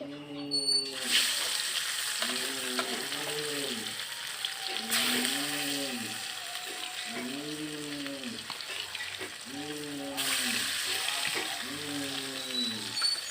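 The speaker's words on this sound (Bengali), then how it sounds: "তো এখন মাছ ভাজা হবে, মাছের ঝোল হবে" Fish sizzles steadily in hot oil over a clay stove, a continuous close frying hiss running throughout while a voice is heard over it.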